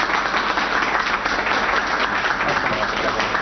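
Applause for the Pope at an event celebrating joy for Argentina, a dense, steady wash of clapping from a sizeable crowd that fills the whole moment without pause.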